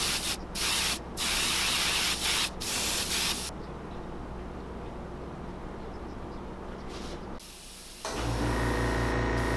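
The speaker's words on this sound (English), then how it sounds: "That was a little bit of bone white towards the top where I just sprayed that decay brown." Decay-brown paint is sprayed onto a handmade wooden fishing lure, with short hissing bursts from an airbrush-style sprayer, then a longer continuous spray, close and clear.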